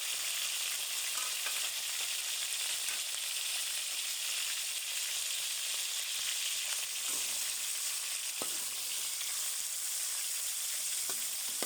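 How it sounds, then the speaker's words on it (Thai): Pork stir-fried with fried garlic for a glass-noodle dish sizzles steadily in a hot pan, a dense continuous frying hiss with a few faint stirring clicks, close and without talk. "เพื่อน ๆใส่หมูลงไปผัด ใส่หมูลงไปนะคะ"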